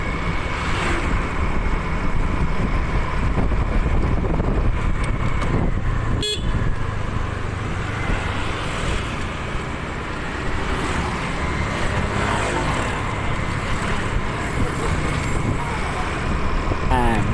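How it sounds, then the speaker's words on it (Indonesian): Dense, slow-moving road traffic crawls through Punten in Batu, Malang, a loud constant roar of cars and motorbikes with a short horn toot partway through and a voice talking over it. "Di sini kendaraan mulai padat merayap ya, di kawasan Punten kendaraan mulai agak padat merayap ini."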